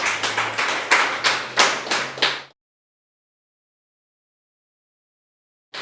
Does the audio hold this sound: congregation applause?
yes